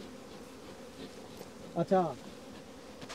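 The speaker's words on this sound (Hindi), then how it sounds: "ये मधुमक्खियाँ अभी इसमें है" Honey bees from a beekeeper's hive buzz in a continuous drone with a couple of louder passes close by, while someone speaks briefly.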